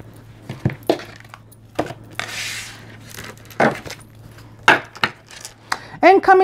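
A tarot deck is cut and dealt into six piles, giving a run of soft card slaps and shuffling clicks in uneven bursts, close and fairly clear, with a brief breathy rustle midway and no talk.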